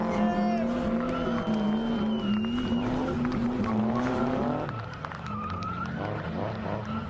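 Race cars drift through a corner at the Drift Nats event at Oran Park, engines revving high and steady with tires squealing in a long sustained screech, loud and close, with a commentator's voice over the noise.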